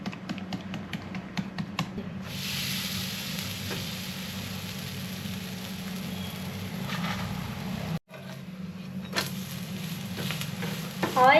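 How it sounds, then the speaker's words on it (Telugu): Akki roti, a rice flour flatbread, roasting on a dry pan without oil, giving a soft steady sizzle with light tapping and pressing clicks. It cuts out briefly near the end and then resumes. "నేను ఆయిల్ లేకుండా కాల్చుకుంటున్నా"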